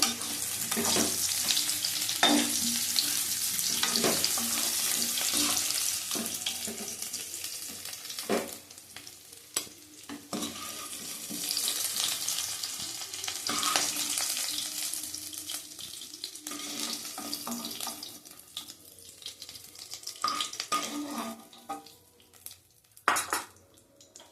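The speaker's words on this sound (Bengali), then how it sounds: "আলুর দমটা আগে করে নিই আমি, ভালো করে লাল লাল করে ভেজে নেব" Potatoes for aloo dum fry in hot oil with a steady, loud sizzle, while a utensil stirs and scrapes now and then. The frying quiets near the end, broken by a few clatters of cookware.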